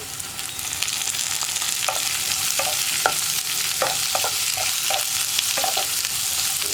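Long-sliced onions go into hot frying oil with ginger and garlic. A loud, continuous sizzle is broken by repeated scrape-and-stir knocks against the pan, with no voices.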